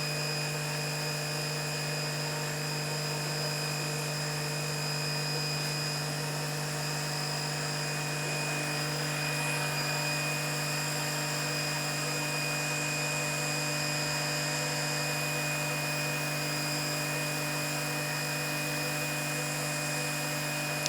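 An AR Blue Clean electric pressure washer runs steadily and fairly quietly, a constant motor-and-pump whine with a low hum holding unchanged for the whole stretch, close by with no talking.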